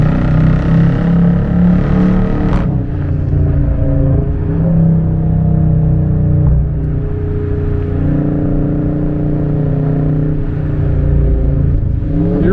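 A 2022 Dodge Charger R/T pushed hard through corners on a slightly wet road, its engine droning loud and steady from inside the cabin, with one rising rev midway and a continuous low rumble throughout.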